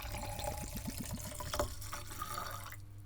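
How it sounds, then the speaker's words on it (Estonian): Water is poured into a measuring cylinder, a short run of quick gurgling bubbles with rising pitch that ends in a brief splash, close and fairly quiet with no voices. "siis valame vee silindrisse."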